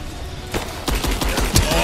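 A gunshot from the video game Rise of the Tomb Raider hits as a sharp loud crack, followed by a rapid burst of further shots and impacts, all crowded into under two seconds.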